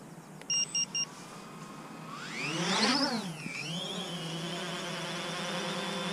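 A few short beeps, then a rising whirring motor sweep as the rotors of a Xiaomi FIMI A3 drone spin up for auto takeoff, settling into a steady high-pitched drone hum.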